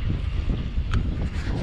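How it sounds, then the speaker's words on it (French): Wind blows steadily by the sea, a continuous low rumbling roar buffeting the microphone, with a brief brighter gust-like rush partway through and no voices. "je sais pas si vous entendez un peu le vent là"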